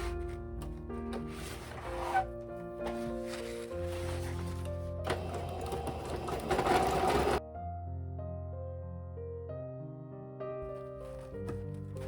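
A sewing machine stitches zigzag seams on a homemade fabric car window cover, a steady motor hum with rapid needle clatter running in bursts that stop and restart, fairly quiet and close.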